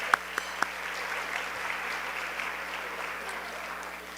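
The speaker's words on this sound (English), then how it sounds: "So let's give a big, wonderful round of applause for the IW Group." A summit audience claps in steady, moderately loud applause, with a few sharp knocks near the start, sustained evenly until the end.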